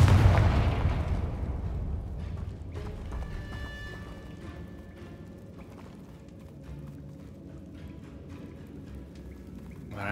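Confringo blasting spell detonating in Hogwarts Legacy, a heavy booming explosion at the start that rolls off into a long fading rumble with faint crackles and debris.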